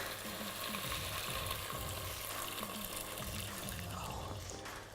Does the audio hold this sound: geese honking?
no